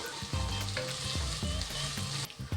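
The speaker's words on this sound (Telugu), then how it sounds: "మనం వేసిన మసాలాలన్నీ చక్కగా వేగిపోయినాయండి" Ground coriander, cumin and garam masala fry in a pan for mint rice, producing a loud, continuous sizzle with intermittent stirring scrapes and a faint low tonal hum beneath.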